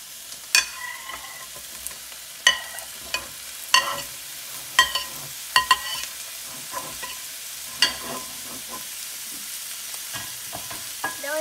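Vegetables being stir-fried for black pepper beef in a pan, with a steady soft sizzle and repeated sharp clacks of a utensil scraping and tossing, irregularly spaced, close up.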